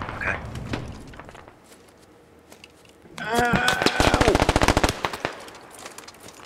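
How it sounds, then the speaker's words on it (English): Gunfire in the military shooter game Squad: scattered distant shots at first, then a loud rapid automatic burst of rounds in quick succession before fading back to quiet. "it just sounds like one dude still shooting at you guys"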